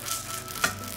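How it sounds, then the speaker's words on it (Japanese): Garlic sizzling in olive oil in a frying pan, a brief, close, steady frying hiss with one small crackle partway through. "フライパンにオリーブオイル入れてニンニクの香りをまず出していきましょう"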